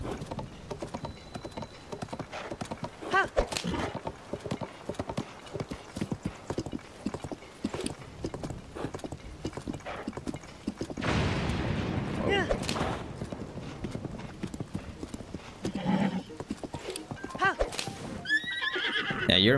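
Horse galloping and neighing in Zelda: Tears of the Kingdom, with rapid, steady hoofbeats throughout, loud whinnies in the middle and toward the end, and talking at times over the sound.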